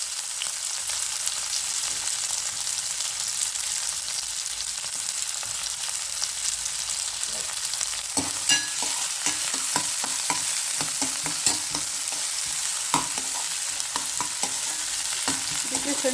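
Garlic and chopped onion fry in a pan for a mushroom sukka, giving a steady close sizzle with repeated scraping stir strokes throughout, no voices.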